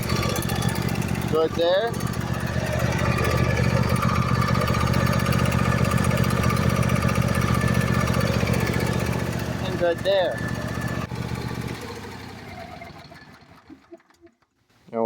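A Briggs & Stratton Intek V-Twin engine runs with a loud, steady drone before winding down and falling quiet near the end; someone speaks briefly over it.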